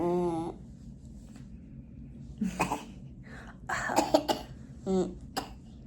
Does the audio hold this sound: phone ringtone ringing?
no